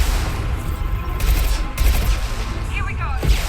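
Rocket fire and explosions in Mass Effect 2, a dense rumbling barrage of blasts and whooshes over constant low booming, with a voice speaking briefly near the end.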